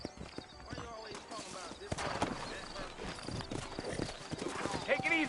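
Saddled horses' hooves clip-clop steadily in the New Austin frontier town of Red Dead Redemption, with an occasional whinny and voices talking over the hoofbeats throughout.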